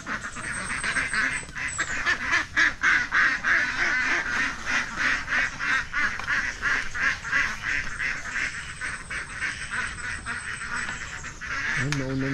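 Domestic ducks quack constantly while being herded outdoors, a loud, dense chorus of overlapping calls from near and mid distance, with a person's voice calling out now and then underneath.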